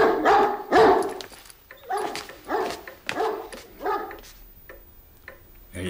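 Dogs bark nervously indoors, a series of about six loud, close barks at roughly even spacing, some with a whining edge, with no talking in between.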